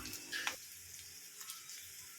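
Chopped onions and sliced green chillies fry in hot cooking oil with a steady hissing sizzle, a short louder spatter at the start, then a soft, even crackle that continues alone.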